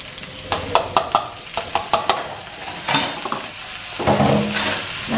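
Potatoes stir-fried in a hot pan, spatula clacking sharply against the metal in a quick rhythm before settling into a steady, close sizzle with softer scraping.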